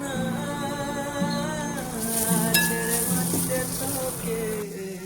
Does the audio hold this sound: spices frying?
yes